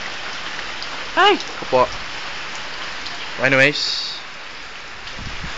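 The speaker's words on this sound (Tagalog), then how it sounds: "Ganyan kalakas ang friggin' ulan." Heavy rain pours steadily in Cavite near Sangley Point, a constant hiss close by with a man's exclamations breaking in briefly over it.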